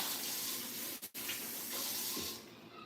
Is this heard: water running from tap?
yes